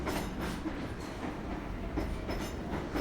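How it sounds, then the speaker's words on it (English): An NYC subway R train riding along the track, a loud continuous rumble with rhythmic clacking of wheels and faint squeals, heard from inside the car with no talk. "So let's board this R train and now we can just relax until we get to our stop."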